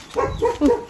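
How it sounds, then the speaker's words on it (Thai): A dog in a village gives three quick, sharp barks close by, evenly spaced within a second, with no talking over them. "จะเห่าทำไมไม่เห็นคนสวยหรอก"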